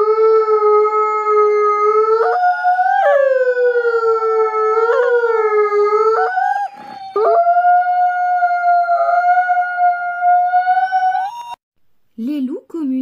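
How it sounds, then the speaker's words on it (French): A wolf pack howls together in long, overlapping, rising and falling tones that layer into a loud sustained chorus, with a brief break near the middle and a few short yips at the end. "Lorsque tous les loups de la meute se mettent à hurler ensemble, on peut les entendre de très loin."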